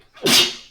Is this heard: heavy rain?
no